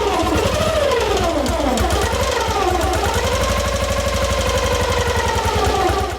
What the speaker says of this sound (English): you'll hear on the video, and you've probably seen it already, there was quite a lot of noise coming from the engine